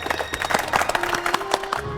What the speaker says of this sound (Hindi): बोलो तालियां।